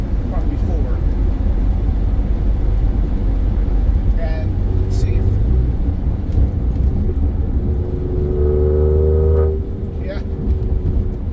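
Twin-turbo car engine revving, a loud, sustained roar that climbs and falls in pitch before easing back to idle, with brief speech over it.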